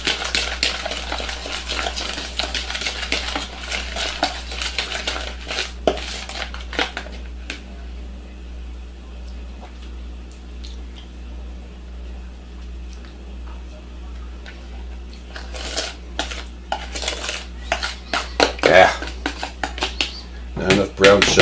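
Meatloaf ingredients being mixed in a bowl for a peppered meatloaf give off clinks and scrapes of utensil against dish, busy at the start and end with a quieter stretch in between, close by and fairly loud.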